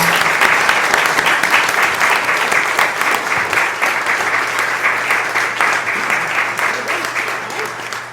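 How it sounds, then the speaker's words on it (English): Applause from the audience at a county Democratic primary candidate forum, a steady mid-sized room of clapping that carries on for about eight seconds and tapers slightly toward the end. "let's give these people a round of applause."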